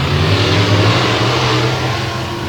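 A dirt-track race car at Heart O Texas Speedway roars at full throttle, a loud, continuous engine howl that stays close and fades only slightly toward the end.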